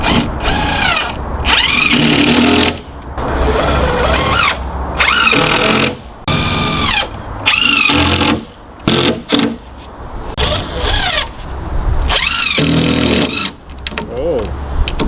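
A power drill drives long screws into a wooden handicap ramp in loud, close bursts of whining motor that start and stop repeatedly, with a person talking between runs.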